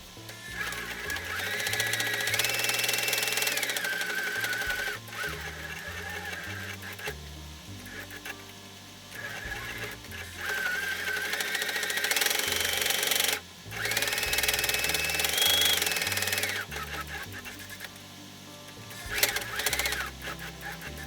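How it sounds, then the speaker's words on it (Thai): Sewing machine stitching over and around a fabric bow collar for a cat, a loud steady mechanical whir running in bursts with short pauses and brief stops between runs. "จากนั้นนะคะเราก็จะนำไปเย็บทับรอบชิ้นงานค่ะ เย็บทั้ง 2 ชิ้นเลยนะคะ"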